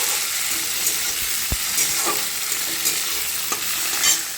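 Chopped tomato stirred into fried onions in a hot pan gives a continuous bright sizzle with occasional soft spatula taps, close and steady, no voices.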